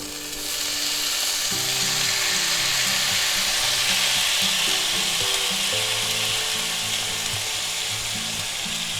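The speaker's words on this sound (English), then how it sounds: "Now we're going to add in our peppers, onions, green and red peppers and all that good stuff." Sliced green and red peppers and onions fry in a hot pan with a loud, steady sizzle throughout. Low rhythmic tonal sounds play beneath it, and no one speaks.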